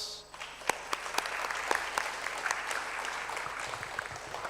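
An audience at an African symposium on natural capital accounting applauds its presenters, a sustained wash of clapping with sharp individual claps standing out nearby.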